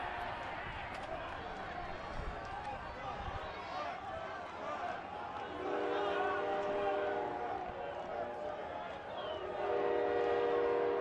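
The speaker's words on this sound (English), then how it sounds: "Trains arriving, George." A train arriving near a baseball game, a long horn sounding in sustained blasts over a rolling rumble of rail cars, heard at a distance beneath crowd and broadcast background noise.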